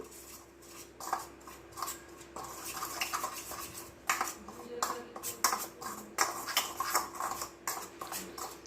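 A spoon clinking against a bowl while garam masala, flour, salt and kasuri methi are mixed, quick repeated metallic taps and scrapes in an uneven rhythm, close and clear.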